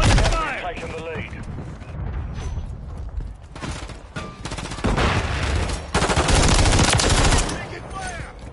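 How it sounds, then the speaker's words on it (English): Gunfire in Call of Duty: Modern Warfare III on the Drive Thru multiplayer map: dense, close automatic bursts and shots crackle through a busy firefight, with a voice speaking briefly amid the noise. "Taking fire."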